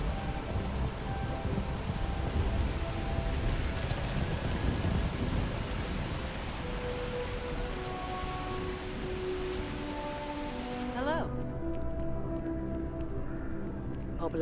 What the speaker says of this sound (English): Oh, lightning! Oh, might be a storm coming.